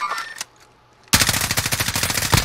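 Automatic gunfire in Call of Duty Warzone: a brief shot burst, a short near-silent pause, then a loud, rapid machine-gun stream of dozens of closely spaced shots.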